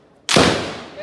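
A single sharp gunshot from an RIA Armscor STK150 pistol during an outdoor accuracy test: a sudden loud crack after a brief quiet, followed by a decaying echo tail.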